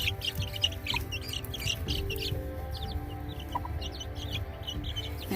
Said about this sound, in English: Let's check those chicks.